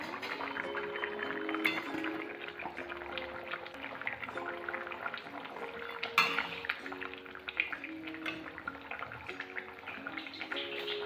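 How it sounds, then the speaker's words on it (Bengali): Water pours into a bowl in a home kitchen while prawn curry cooks, a steady close liquid pour and splash running with light clinks of dishes and metal utensils, no talk. "গামলাটা ধুয়ে আর একটু জল দিয়ে দিলাম"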